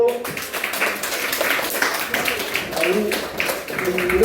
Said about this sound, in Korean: 자, 박수 보내주세요.